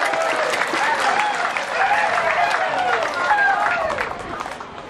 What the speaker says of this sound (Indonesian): Kita beri tepuk tangan buat saudara yang di luar Kristen boleh hadir bersama-sama saat ini.